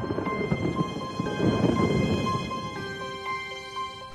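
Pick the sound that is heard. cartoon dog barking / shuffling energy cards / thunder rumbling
thunder rumbling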